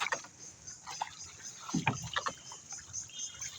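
A wooden boat rowed on a river, with oars splashing and knocking in irregular strokes, close by over a faint wind-and-water background.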